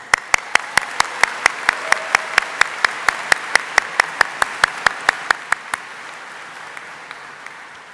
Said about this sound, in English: I think we owe her a very large round of applause